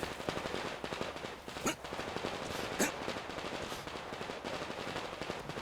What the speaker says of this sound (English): And they're shooting.